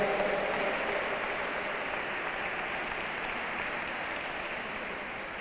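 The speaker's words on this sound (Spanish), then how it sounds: "Fuerte el aplauso para ellos" Crowd applause at the finish of a cross duathlon race for a mixed relay pair, a dense steady patter of clapping that fades slightly over several seconds with no voices on top.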